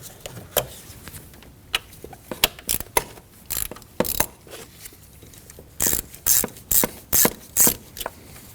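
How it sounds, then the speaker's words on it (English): Intake hose clamp on a 2015-2024 Ford Edge loosened with a ratchet, rapid clicking bursts of pawl ratcheting repeated in short strokes, close and crisp with brief pauses between. "we can loosen up the second hose clamp"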